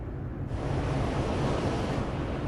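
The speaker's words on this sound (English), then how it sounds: "The sea is calm," Calm open sea washes steadily beneath a passenger ship cruising at night, a soft, continuous rush of water with a light hiss of wind, even and unbroken.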